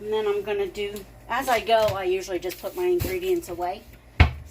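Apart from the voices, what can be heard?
None of the usual background noises is heard.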